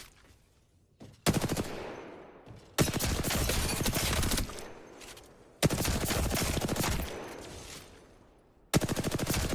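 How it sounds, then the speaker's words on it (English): Rapid automatic gunfire from the space simulator game Elite Dangerous rattles in several long, loud bursts separated by short pauses. "Loads of shooting and Elite Dangerous"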